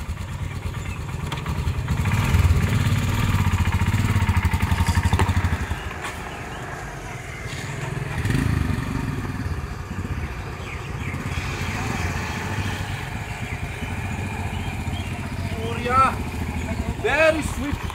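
Royal Enfield Himalayan motorcycle ridden through Kanchipuram market, a low engine thrum loudest early then settling to a quieter running rumble, with speech and busy street noise around it.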